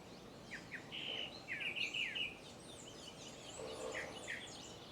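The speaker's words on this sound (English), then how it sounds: "Oh, look, there's a kiskadee on the papaya tree." A great kiskadee sings from a papaya tree outdoors, a series of faint, distant bright chirps and whistled calls repeating over a soft background hiss, with no voices.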